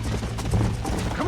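Rapid clip-clop of a video game horse's hooves galloping steadily, with a muffled voice briefly in the background.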